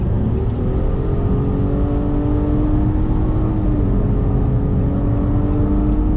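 Nissan Murano (2019) accelerating hard from highway speed around 110 km/h while overtaking, heard from inside as a steady, loud engine drone with rising harmonic tones and road roar throughout.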